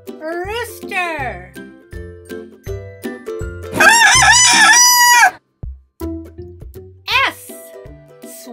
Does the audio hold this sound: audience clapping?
no